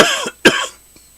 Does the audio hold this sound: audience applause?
no